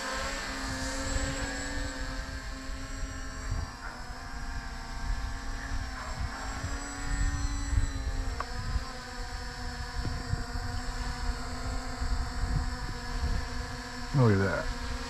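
An HT70 drone flying low in laps outdoors, its propellers giving a continuous whirring hum with shifting pitch as it moves, steady throughout with a brief rising whine near the end.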